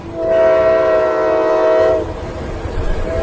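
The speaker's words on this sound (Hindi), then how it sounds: "तभी पास के रेलवे ट्रैक से एक भारी मालगाड़ी गुजरी।" A heavy freight train passes close by on a railway track, opening with a loud, sustained horn blast for about two seconds, then dropping to a rumbling roll of wagons.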